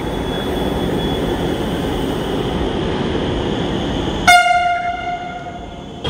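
A Kanpur Metro train runs with a steady, loud rumble of wheels and motors, then a sharp tonal chime or horn sounds near the end and the rumble fades.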